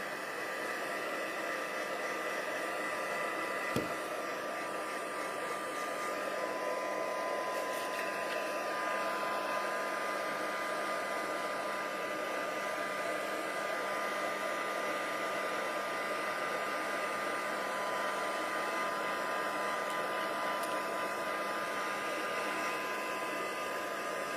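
An electric heat tool blows hot air to dry ink on vellum for embossing and stamping, a steady, loud whooshing hiss that runs without a break from start to finish, with no talking.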